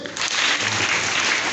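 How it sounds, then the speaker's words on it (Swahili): A crowd applauds at a drama victory celebration and term opening prayers at ACK St. Philips Birikani, a loud, dense burst of clapping that starts abruptly and holds steady. "makofi"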